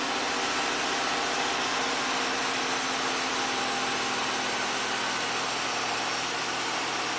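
A 1985 Oldsmobile engine settles into a steady, close idle after a long crank, a continuous even drone with a faint vibrating hum and no talking.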